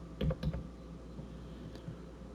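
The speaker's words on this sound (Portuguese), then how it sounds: "Então eu vou digitar aqui as coordenadas." Coordinates typed on a computer keyboard: a few quiet, close keystroke clicks in a quick cluster near the start, then sparse single taps against a faint steady hum.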